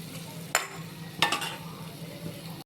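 Chopped onion and green chili sauté in a pan for pepper chicken, with a soft steady sizzle under two sharp clinks of a spoon stirring against the pan.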